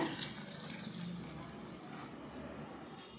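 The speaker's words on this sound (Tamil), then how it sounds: "எண்ணெய் கொதித்தோடனே எண்ணெயில் போடுறாங்க" Onion pakoda batter dropped into hot oil fries with a continuous, close sizzling hiss that stays steady and fairly loud throughout, with no voices over it.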